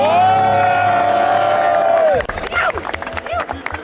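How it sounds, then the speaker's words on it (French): A long, sustained tone fades out, then a television show crowd breaks into short bursts of cheering and clapping for a strongman contestant stepping up for a duel. "faites un tonnerre d'applaudissements pour Malik Triolet"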